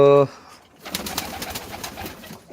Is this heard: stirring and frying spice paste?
no